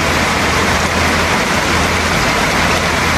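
Heavy rain pours down steadily during an outdoor meal, a dense, loud, continuous wash of noise with no breaks across the whole moment.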